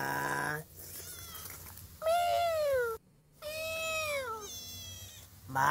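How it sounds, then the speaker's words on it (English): A kitten meows several times, high, drawn-out cries with short pauses between, close and clear. "Oh, look, a kitten."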